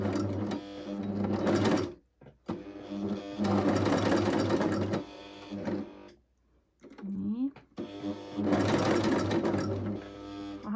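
A Brother coverstitch machine sews a hem in several loud, close bursts of rapid mechanical stitching, separated by short pauses where the motor stops.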